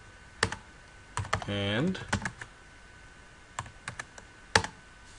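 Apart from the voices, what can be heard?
typing a chmod command on a computer keyboard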